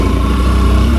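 A motorcycle engine on a lightly off-road route struggles to pull, giving a loud, close, steady low rumble with no break.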